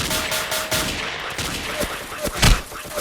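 Gunfire in the blocky shooter Ace of Spades, a dense spatter of rapid shots with a few sharper cracks and thumps standing out, close and loud, while a voice speaks briefly underneath.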